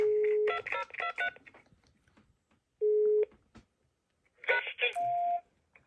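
DTMF telephone tones play while a call is placed to leave a voicemail; bursts of rapid dual-tone beeps alternate with steady single tones, clear and close with quiet gaps between them.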